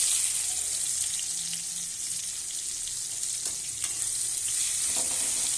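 A steady, bright sizzle of onions frying in hot oil, with occasional soft scraping stirs; no voices.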